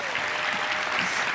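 An audience at a school awards ceremony applauds, steady dense clapping from a full room that stays even in loudness throughout.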